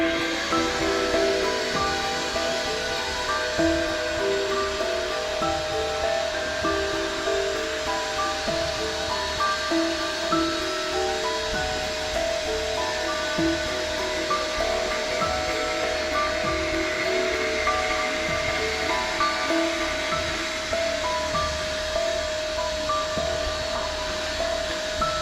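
A loud, steady electric blower drones continuously with a constant whine and rushing air, unchanging from start to finish.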